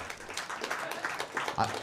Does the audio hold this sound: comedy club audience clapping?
yes